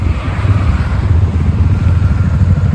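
CF Moto SR 250 and SR 300 motorcycles rumble together at the start line before a race at a grand opening in Narsinghdi, a steady loud low engine drone with throbbing idle pulses throughout.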